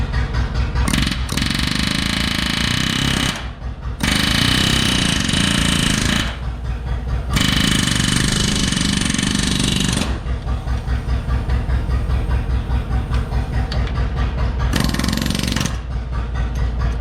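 A pneumatic impact tool works on a bolt on a Case tractor, loud and close, in long bursts of rapid hammering rattle separated by short pauses.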